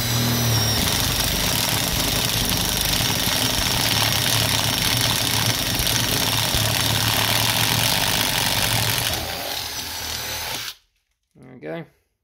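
An Aldi Ferrex power tool motor runs loud and close with a bent bit fitted, a steady high-pitched whirring drone that cuts off abruptly near the end, followed by a brief voice.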